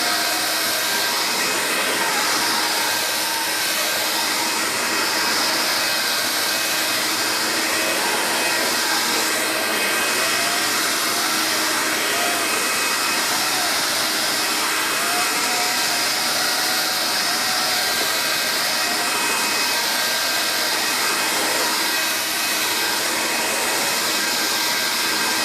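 A Vax Air Cordless Lift Duo vacuum cleaner runs continuously on carpet with a loud, steady airy whir that holds level throughout, with no talking.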